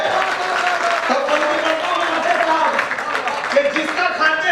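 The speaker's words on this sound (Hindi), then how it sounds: "दोनों हाथ खोले, एक बार तालियों का महोत्सव से बता देना मुझे" Steady, dense audience applause fills a Hindi comic poetry recital (hasya kavi sammelan), a continuous crowd of clapping with a voice speaking over it.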